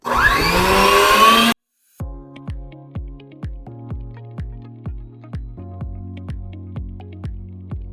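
A stand mixer beats olive oil and vinegar for gluten-free bread. A loud rushing burst is followed by a brief silence, then a close, steady motor whir that pulses in a regular rhythm.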